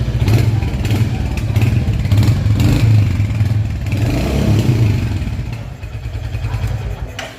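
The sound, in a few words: Royal Enfield Hunter 350 motorcycle engine starting and running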